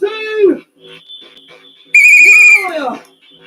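A party crowd blows whistles, giving loud, sliding high-pitched blasts, one short burst and then a longer shrill one, close and prominent with a voice audible between them.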